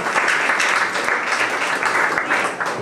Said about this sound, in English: Please get up for your next performer coming to the stage, Mr. Pat House.